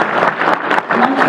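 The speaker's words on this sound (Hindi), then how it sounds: "जरा जोरदार तालियों से मुझे आदेशित कर दो" Brief burst of audience applause at a Hindi poetry gathering on a Republic Day evening, loud and close, with clapping that swells and dips over about a second.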